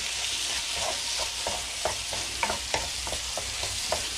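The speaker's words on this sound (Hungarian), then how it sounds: "most jön a csirkemell hozzáadása, amely csirkemell fog engedni egy pici kis levet" Chicken breast sizzles steadily in a hot pot while a utensil stirs it, giving constant frying hiss broken by regular scraping knocks against the pot, close and fairly loud.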